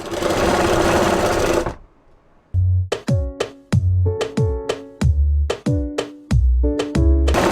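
A sewing machine stitches a net kurti, first a fast continuous whir, then a short pause and a series of slow, separate thumping stitch cycles close by.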